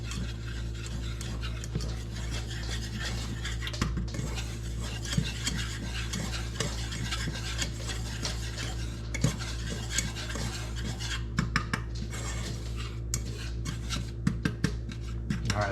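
A utensil stirs and scrapes flour into melted butter in a pan for creamed beef, giving close, continuous rasping strokes with small clinks and a faint sizzle underneath.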